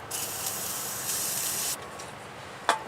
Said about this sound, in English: Spray the brake cleaner down inside of it.